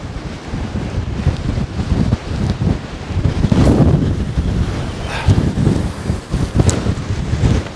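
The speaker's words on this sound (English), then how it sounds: "that wind, it's hard to hold the rod, and the slack that the wind is taking is unbelievable" Strong gusts from Storm Darragh batter a Dorset coastline, roaring and buffeting close to the microphone with rumbling wind noise and the wash of surf behind, steady and loud throughout.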